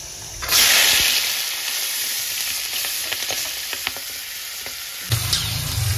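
Cumin, kasuri methi and peas hit a hot pan and sizzle loudly in a steady hiss, with a few stirring clicks and a fresh burst of frying near the end.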